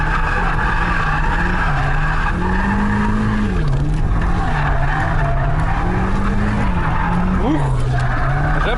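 A drifting car screeching its tires in a long continuous skid as the engine drones and shifts pitch underneath, loud and close, with voices talking over it.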